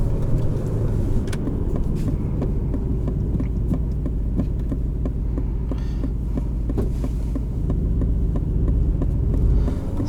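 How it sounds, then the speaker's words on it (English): Cabin view of a 2021 Aston Martin Vantage V8 with a manual gearbox: a steady, loud engine drone throughout, dotted with sharp crackles and pops from the exhaust on the overrun, no talking. "Gotta love the pops on the overrun too."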